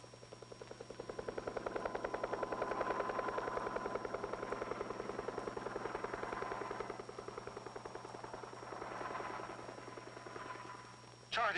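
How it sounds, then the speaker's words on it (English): Air Force helicopters fly over a Nevada atomic bomb test blast area, a faint, steady rotor chop that slowly swells and fades with a constant low hum beneath it. "After the explosion, Air Force helicopters survey and monitor the acres of blast area with sensitive radiation"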